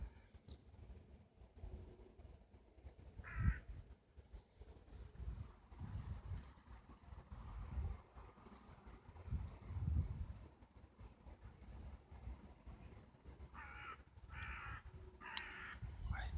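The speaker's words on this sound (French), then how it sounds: "Ta gueule le corbeau, putain." A crow caws outdoors in December, several separate harsh calls at moderate distance over wind noise and faint background sounds.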